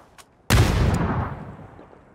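A single loud, close gunshot from PUBG bursts out after near silence and rings into a long echoing tail that fades over the next second and a half.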